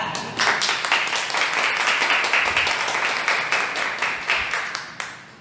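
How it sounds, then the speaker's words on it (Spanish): Youth congregation in a chapel applauding for the Virgin Mary, steady rapid clapping from many hands, moderately loud, sustained and then tapering off near the end. "tenemos un aplauso a la Virgen María"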